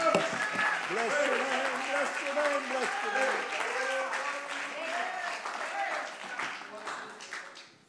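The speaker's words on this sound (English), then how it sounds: "Let's clap our hands and give praise unto the Lord." Church congregation clapping hands in praise, steady applause under loud singing or a preaching voice with music that fades toward the end.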